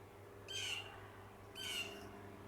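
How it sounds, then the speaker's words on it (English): Bird calling in a backyard vegetable and flower garden, two short hoarse squawking calls about a second apart, faint over a low steady background hum. "A bird."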